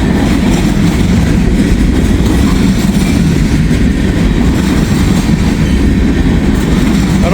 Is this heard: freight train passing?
yes